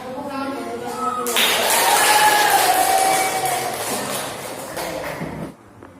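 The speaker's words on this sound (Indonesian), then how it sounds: "Oke, kasih tepuk tangan buat temennya." A classroom of students claps and cheers for their classmates, a loud burst of applause and crowd noise that swells for a few seconds after a teacher speaks, then fades out.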